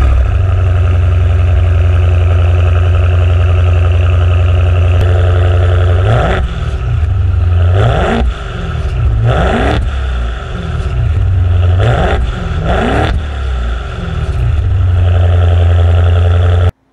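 A 2023 Maserati Ghibli Trofeo V8 idles with a deep steady rumble, then is revved sharply five or six times in quick blips that rise and fall back to idle, loud and close with no talk.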